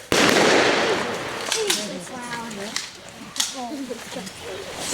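Rifle team firing a Memorial Day salute volley outdoors in Pittsford, Vermont: one sharp loud crack that echoes away, followed by voices talking and murmuring in the crowd.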